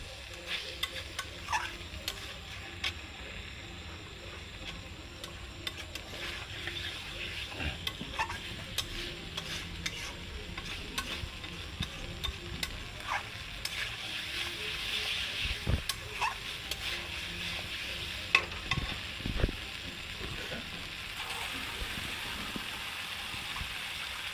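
Katla fish curry frying and being stirred in a pan at home gives a soft, steady sizzle with repeated scraping stir strokes, faint and close throughout.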